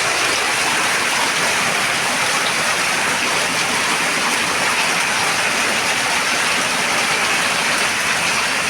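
Floodwater pouring into a house in Dhaka, a loud, steady rushing wash of water like a strong stream, continuous and unbroken, with no voices.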